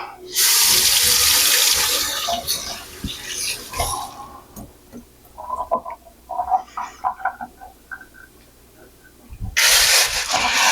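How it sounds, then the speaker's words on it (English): Tap water runs loudly over a plastic scoop being rinsed in a sink, a steady broad splash at the start and again at the end, with quieter clinks and drips in between. "I'm gonna rinse off my scoop."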